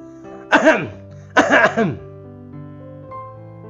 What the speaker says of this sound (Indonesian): Saya cobakan dengan ini ya, saya batuk.